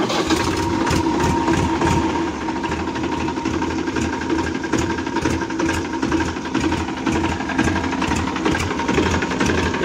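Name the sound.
Tafe 7250 DI tractor engine running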